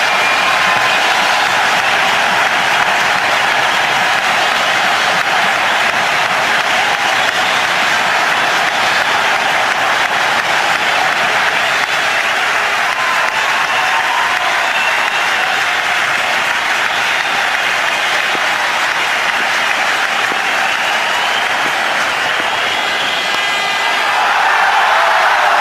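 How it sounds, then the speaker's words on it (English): A cricket crowd at a one-day international in Sharjah between India and Australia gives a long, loud ovation for Sachin Tendulkar's century. Sustained applause and some cheering roar steadily for the whole stretch, with no speech over it. "Tremendous ovation here from the crowd."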